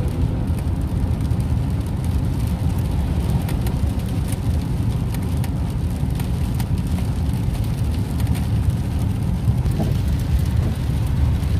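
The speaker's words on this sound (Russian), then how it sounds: "Поэтому, прям видите, дождь прям такой идет." Rain falling on a car, heard from inside the cabin on a drive to Vladimir: a dense, steady low rumble of road and rain noise with faint patter, continuous and unbroken, with no voices.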